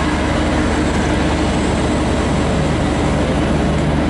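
Interior of a V/Line H set passenger train at Bacchus Marsh station: a steady, loud, broadband rumble and hum fills the space continuously, with no voices.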